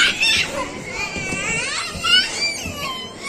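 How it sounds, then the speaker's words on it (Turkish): A young child cries and whimpers in high wavering wails amid children playing indoors, close and fairly loud, with other kids' voices around. "Niye ağlıyorsun?"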